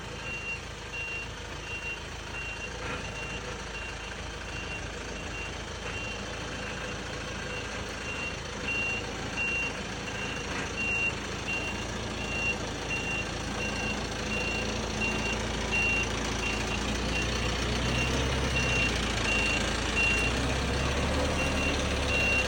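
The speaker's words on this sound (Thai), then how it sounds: "ลองถอยหลังลงดูนะครับ" Isuzu water tank truck backing up, its reversing alarm beeping steadily and evenly over a continuous engine rumble that grows slightly heavier toward the end.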